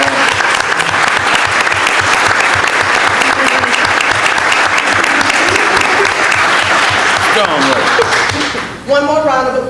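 A large audience breaks into loud, sustained applause for a graduating nursing student who belongs to Phi Theta Kappa. The clapping fills nearly the whole stretch, then dips sharply at the end as a voice starts to speak.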